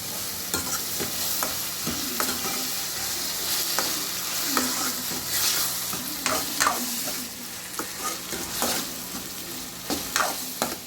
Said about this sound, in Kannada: ಇವು ನೀಟಾಗಿ ಒನ್ ಬೈ ಒನ್ ಫ್ರೈ ಆಗಬೇಕು